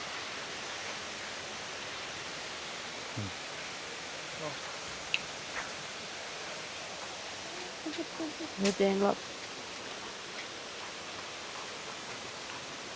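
Clear water of a waterfall spilling over several layers of soil at Wat Pha Lat in Chiang Mai makes a steady, even rush throughout, with a person briefly speaking over it.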